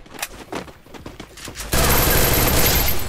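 Bursts of gunfire in a Free Fire battle-royale match: scattered sharp shots at first under voices, then a sudden loud, dense continuous volley that fills the rest of the moment.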